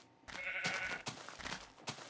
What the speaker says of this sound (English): There's that naked sheep still.